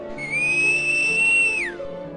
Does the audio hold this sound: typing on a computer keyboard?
no